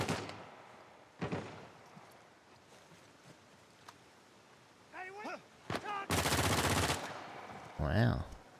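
Video game gunfire from a new type of gun in Uncharted 4 sounds in sharp bursts, single cracks followed by a long rapid loud burst and a whooshing blast against quiet ambience.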